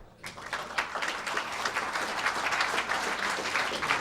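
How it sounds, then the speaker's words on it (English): Audience applause at a presidential campaign event in Portsmouth, a sustained crowd clapping that swells in after a brief quiet start and holds steady, moderately loud with no speech. "How about a round of applause for Peter?"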